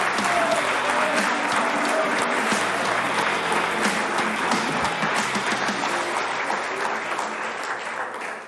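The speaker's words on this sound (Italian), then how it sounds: "Facciamo un bel applauso." A crowd at a local sports club event gives steady, dense applause for an honorary president, a continuous wash of clapping that stays loud before tapering slightly at the end.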